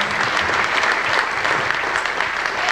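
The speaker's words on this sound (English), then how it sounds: "Come on, give the Lord a hand clap tonight." A church congregation claps together, a thick, continuous roar of hands filling the room evenly from start to finish.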